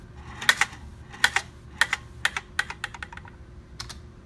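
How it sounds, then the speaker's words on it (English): Keys tapped on a computer keyboard, including the spacebar: a handful of sharp, close clicks spaced irregularly, some in quick pairs, then a faster flurry of lighter taps before a final click. "I press spacebar on the keyboard to start taking data"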